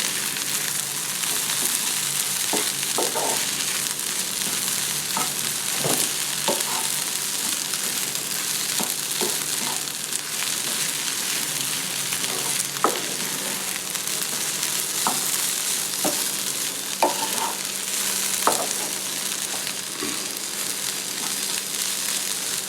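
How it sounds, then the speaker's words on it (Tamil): Okra stir-fry with grated coconut being stirred in a pan, a steady sizzling hiss with scattered spoon scrapes and clicks throughout, close and continuous, no talking. "இப்போது நம்ம கொஞ்சம் தேங்காய் போட்டு இறக்கிடலாங்க. நல்லா கலந்து விட்டுக்கோங்க."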